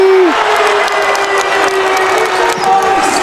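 Basketball crowd at an NCAA men's game, Loyola Chicago against St. Bonaventure, cheering and applauding steadily through a tight two-point finish, a dense roar with a commentator's voice faintly under it.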